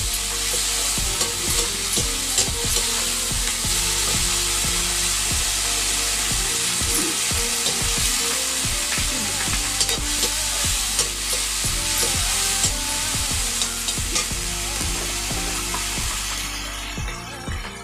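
Tomatoes fry with pumpkin leaves in a pan, giving a loud, close, steady sizzle broken by repeated scraping stir strokes from a utensil throughout, with no one speaking.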